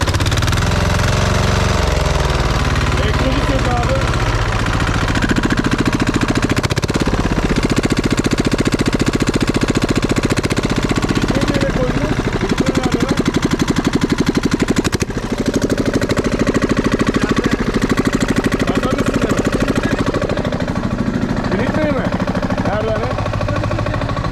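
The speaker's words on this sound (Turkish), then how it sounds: "Motorun modeli 15DD 440." A Lombardini 15DD 440 diesel engine that is blowing black smoke from its exhaust runs loud and continuously, with a rough, knocking idle that rises in rev at times, while someone talks over it.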